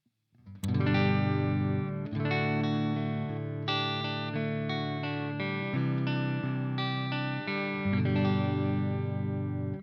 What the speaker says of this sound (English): That's the modulation.